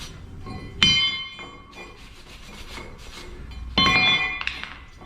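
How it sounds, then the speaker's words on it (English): Brushing off a front brake part on a 2020 Ram 3500 pickup, with scraping rubs and two sharp metallic ringing strikes that leave a bell-like tone hanging, close and fairly loud. "And brush this off."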